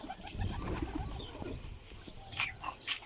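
Pigeons kept by a young handler make soft coos and rustles at close range, with brief flutters and scattered sharper sounds over a busy background.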